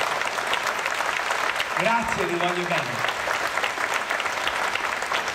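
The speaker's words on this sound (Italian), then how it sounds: "Forza, fate un applauso" Steady applause from a crowd at an outdoor performance at Villa Fabbricotti in Livorno, with a voice speaking over the clapping partway through.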